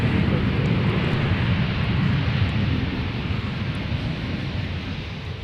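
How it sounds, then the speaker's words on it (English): An airliner lifting off on a departure to Chicago O'Hare gives a loud, broad, steady jet roar that fades slightly toward the end, heard from a distance at the airport with no voices. "Just lifting off ahead of our arriving Delta 737 900ER."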